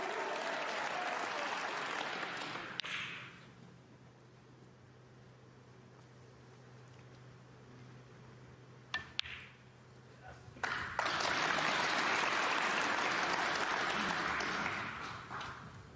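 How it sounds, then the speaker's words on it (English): Snooker crowd at the Waterfront Hall in Belfast applauding loudly during the Northern Ireland Open final, a sustained burst of clapping that dies to a quiet hall, then erupts again with some scattered claps between. "Listen to the applause."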